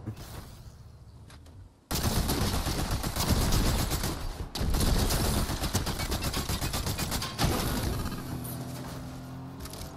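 Video game gunfire: a loud, dense burst of rapid automatic shots that starts abruptly, breaks off briefly, then resumes before tapering into quieter clatter, with no talk.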